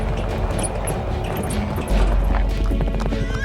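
Horse hooves clip-clop steadily with a whinny as an army sound effect for a huge 17th-century force of cavalry, camels and elephants, dense and continuous with no talk over it.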